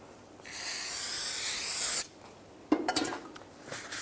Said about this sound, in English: using some brake parts cleaner, just rinse down the back side of the rotor